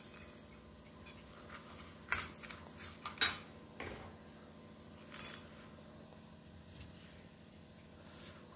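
A metal spoon stirs homemade yogurt with a little sugar in a bowl, giving quiet scraping and a few sharp clinks against the dish that come in irregular bursts.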